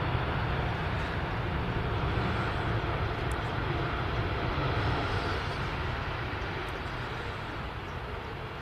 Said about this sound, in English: Qatar A350 touching down.